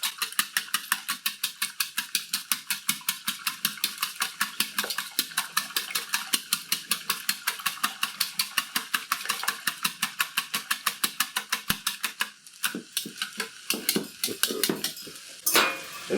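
Eggs whisked briskly in a bowl for Tex-Mex chicken fried rice: a fast, regular stream of close metallic clicks and scrapes that continues for most of the stretch, then slows into a few looser strokes and knocks at the end.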